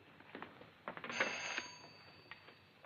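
An old telephone bell rings briefly in a vintage Italian comedy film scene, a short bright trill rising over quiet background noise and scattered soft knocks.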